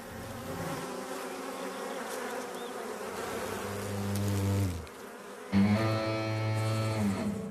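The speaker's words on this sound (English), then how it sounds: "With hungry hornet grubs to feed, attacks against the bees increase in intensity." Hornets attacking honeybees at a hive make dense, loud buzzing close by, with droning wingbeats that swell, cut out briefly and then return even stronger.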